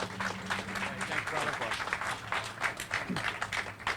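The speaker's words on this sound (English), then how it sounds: "let's give him a warm round of applause" A crowd gives a warm round of applause for Connecticut Governor Lamont at a Waterbury child tax rebate event, steady clapping over a low hum with faint voices beneath.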